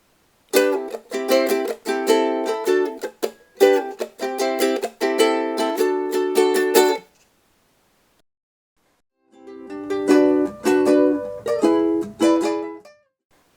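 A ukulele strums the break of a song at full tempo, bright rhythmic chords with crisp muted chops, pausing for a couple of seconds before strumming resumes, no voices.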